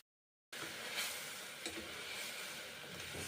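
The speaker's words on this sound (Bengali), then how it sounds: "এবারে সেদ্ধ করে রাখা মুসুরির ডাল মটরশুঁটি সেদ্ধ এখন দেব গরম তেলে" Boiled red lentils and green peas go into hot oil for a vegetarian pea dal. After a brief silence, a strong, even sizzle starts abruptly and carries on steadily, close up.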